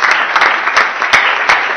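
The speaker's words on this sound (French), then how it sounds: "On peut l'applaudir pendant qu'il s'annonce." Audience applause for an education award recipient at a Congolese honours ceremony: a dense, steady wash of clapping with sharp louder claps rising out of it, loud and close, with no talk over it.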